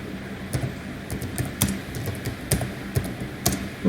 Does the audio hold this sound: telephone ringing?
no